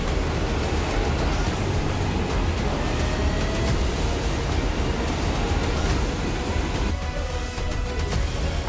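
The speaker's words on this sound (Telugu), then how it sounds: "it's a beautiful water falls" A waterfall on the Kedarnath trek roars in a steady, dense wash of rushing water, loud and close, with no break for the whole stretch.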